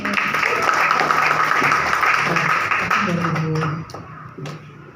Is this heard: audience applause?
yes